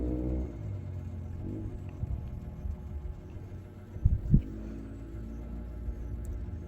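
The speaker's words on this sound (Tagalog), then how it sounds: "nagngob ang motor anak" A motorcycle engine gives a steady low rumbling drone throughout, fairly close, with a couple of heavier thumps partway through and no one talking.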